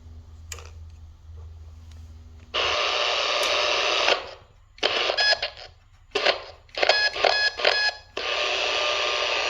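A burst of electronic data tones over a Uniden PRO401HH handheld CB radio on channel 7, harsh warbling bursts broken by short gaps and beeping chirps, loud and close, after a low hum.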